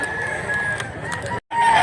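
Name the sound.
rooster crowing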